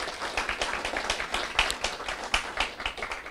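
Applause from a conference audience for two business owners after a talk, a dense steady patter of many hands clapping with occasional louder claps, close and sustained, no talking over it.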